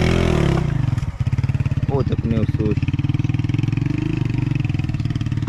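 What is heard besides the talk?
motorcycle riding on a rough mountain road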